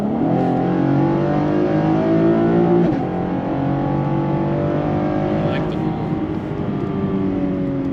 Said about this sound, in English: little exhaust farts